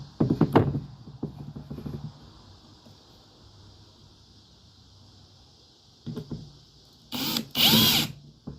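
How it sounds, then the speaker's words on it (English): A cordless power drill driving screws into wood boards for a raised garden bed, with a short whir near the start, then quiet, and two louder bursts near the end, close and without talk. "I'm going to figure out where I want my screws at, and I'm going to go ahead and start them"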